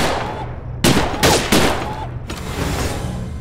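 In the virtual-reality shooting game Gun Club Reloaded on PSVR2, three crisp gunshots fire in quick succession, each a loud close crack trailing into brief reverb before a quieter ambient bed returns.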